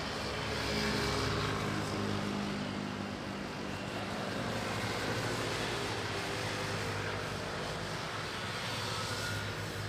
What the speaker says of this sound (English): Philippine Airlines flight from Singapore on an A321.